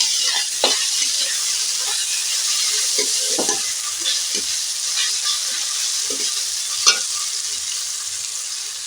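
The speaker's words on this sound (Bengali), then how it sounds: "এই মশলা এবার আমি দিয়ে দিলাম দিয়ে মশলা আমি ভাজতে থাকবো" Spices sizzle steadily in a pan on a low flame, with scattered scraping knocks of a spatula stirring through them and one sharper clack near the end; no voices.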